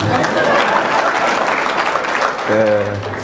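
Audience applause at a live stand-up comedy show fills the whole stretch as dense, steady clapping, with a voice breaking in briefly near the end.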